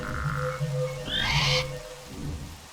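Toads in a modded Minecraft world croak in repeated low, buzzing calls at close range, with a brief higher chirp in the middle and a soft rain-like hiss beneath.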